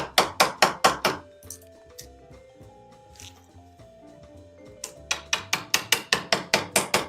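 A hammer strikes a small chisel while digging into material for a garage garden platform, giving a quick run of about seven sharp taps, a pause with quieter mechanical ringing, then another fast series of about ten close, loud blows.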